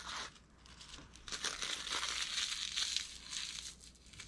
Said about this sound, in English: you're just going to peel this away